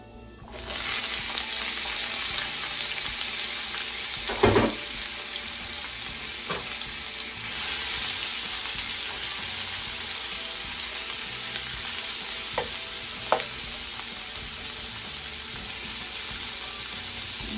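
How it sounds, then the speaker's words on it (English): Onions frying in oil in a skillet for Philly steak sandwiches, a continuous bright sizzle that starts abruptly and holds steady, with a few scattered clinks and stirring knocks, close up and without speech. "let's cook the onions first"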